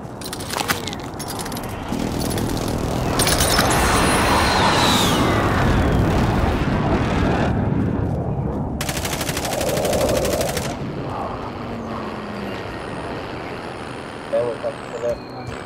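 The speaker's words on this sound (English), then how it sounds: "Allied precision airstrike incoming." A precision airstrike in Call of Duty Warzone sets off a sustained roar of loud, rumbling blasts and heavy gunfire that gradually fades, followed by scattered distant shots.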